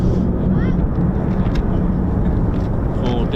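Fighter jets of the US Air Force's 48th Fighter Wing, F-15s and F-35s, taxiing out for departure at RAF Lakenheath, a steady low engine rumble and whine held at constant loudness throughout, with faint talk mixed in.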